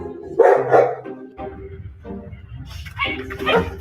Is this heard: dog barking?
yes